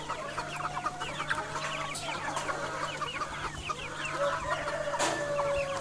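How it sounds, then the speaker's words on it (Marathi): Backyard village chickens in the Konkan cluck and chatter in a busy flock, many overlapping calls close by. A rooster's crow is faintly mixed in over a steady low hum. "ते कोंबड्यांना खायला लागले."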